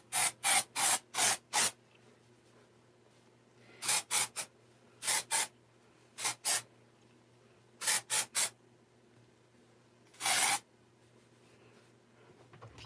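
Batiste dry shampoo, Divine Dark, sprayed onto hair in repeated short hissing aerosol bursts, a quick cluster of four, then groups of three and two, and one longer final spray, close and clear over quiet room tone.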